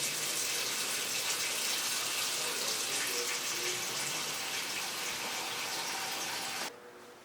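Cold tap water gushes steadily into a pot, a close continuous rushing that stops abruptly near the end.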